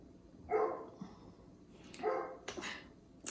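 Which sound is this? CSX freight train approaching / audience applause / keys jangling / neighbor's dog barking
neighbor's dog barking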